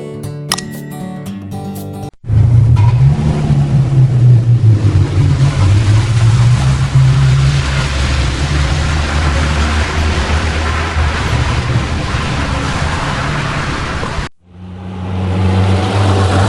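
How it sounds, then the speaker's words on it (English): A car engine roars loudly and steadily for about twelve seconds, with a low droning hum that wavers in pitch as it revs, then cuts off abruptly. "Let's hear the sound of a car."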